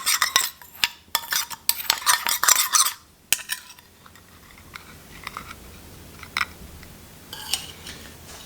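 Olive oil seasoning rub for lamb chops being stirred in a bowl, with a burst of quick clinking scrapes and taps of a utensil against the dish that then drops to a few scattered, fainter clicks.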